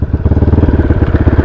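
A motorbike idling close by with a loud, rapid, even engine putter, steady throughout with no voices.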